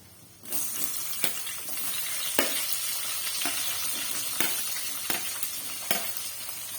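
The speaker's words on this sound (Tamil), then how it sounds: "இந்த ஸ்டேஜில் நம்ம கட் பண்ணி வச்சிருக்க வெங்காயத்தை சேர்த்துக்கலாம்" Chopped onions dropped into hot oil with browned dal for idli upma, a sudden jump from quiet into loud continuous sizzling, then steady crackle punctuated by regular spatula stirring knocks, close up with no speech.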